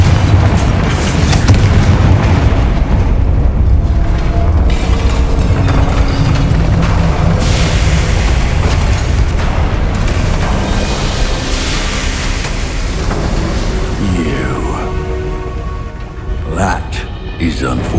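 Confringo fire spell blasting in Hogwarts Legacy, heavy rumbling booms and crackling debris in a sustained loud wash of combat noise, with people speaking over it.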